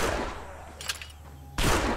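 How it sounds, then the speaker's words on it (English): Gunfire in the video game State of Decay, with a few faint, scattered shots in the middle and then a sudden loud burst at the end. "That's Ray firing right now."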